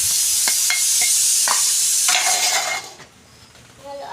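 Oil sizzles steadily with spices, onion, cinnamon and star anise tempering in it, broken by a few sharp clinks of a spoon against the pan before the hiss dies down.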